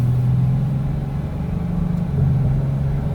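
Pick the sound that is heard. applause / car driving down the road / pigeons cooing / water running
car driving down the road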